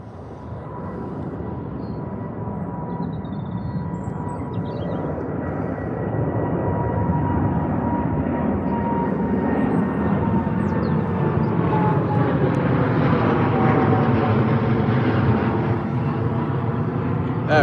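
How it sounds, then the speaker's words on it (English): A British Airways Boeing 787 takes off from London Heathrow, its jet engines a steady roar that builds and deepens into a broad rumble with rising tonal whine, loud and near, with no talking. "British Airways 787 off to India again"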